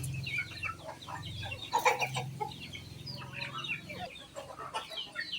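Chickens being fed cluck busily close by, a scattered run of short clucks and murmurs from several birds, with a louder burst of clucking near the middle and a low background hum throughout.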